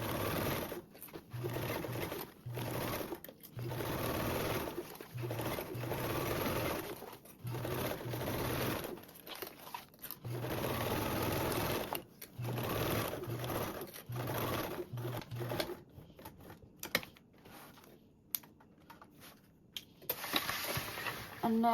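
A sewing machine stitches binding onto a convertible duffle bag in bursts of rapid mechanical whirring, broken by short pauses, with someone talking over it.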